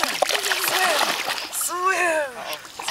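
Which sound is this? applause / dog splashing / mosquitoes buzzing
dog splashing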